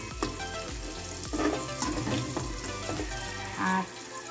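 Onion, garlic and ginger sauté in a pan for goto, a steady sizzle with scraping stirs and clinks of a utensil against the pan, fairly close and with no talk.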